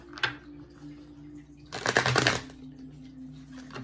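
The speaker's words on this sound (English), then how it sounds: "One more shuffle." Tarot cards shuffled close by: a short flick, then a dense half-second riffle of crisp papery slaps over a low steady hum.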